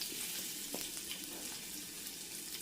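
Chopped ginger and green chillies frying in a little oil with curry leaves for an eggplant curry, a steady soft sizzle with faint crackles and stirring, no voices.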